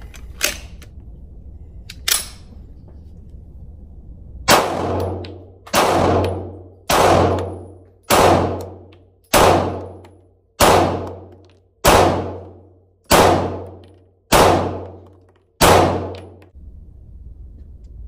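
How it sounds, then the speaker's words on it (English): Stoeger STR-9 pistol fired at the range: a couple of faint distant shots, then a steady string of ten loud, sharp reports about a second apart, each ringing off briefly. "Alright, more shooting."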